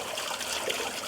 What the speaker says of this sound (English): Would you mind just flushing the loo in there, please